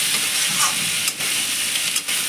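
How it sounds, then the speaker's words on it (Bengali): Spices fry and are stirred in a pan for a mourala fish chorchori with vegetables. A loud, steady hiss and sizzle runs throughout, with brief dips as the spatula moves. "আর একটু ভাজতে হবে, নাহলে মশলা কাঁচা গন্ধ থেকে যাবে। আর একটু নাড়াচাড়া করে নিই"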